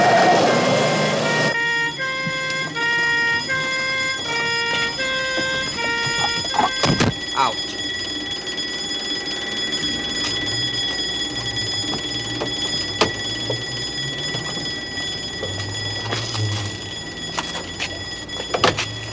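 An alarm goes off in a TV drama scene: a loud, rapid electronic beeping pattern for the first seconds, then a sharp bang, followed by a steady high tone with background rumble and scattered sounds.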